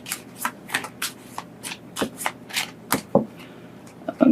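Tarot cards shuffled by hand, with a quick series of crisp riffling and slapping bursts close up and a faint voice in the background.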